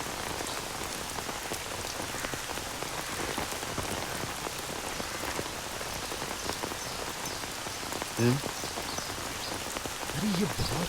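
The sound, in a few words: heavy rain falling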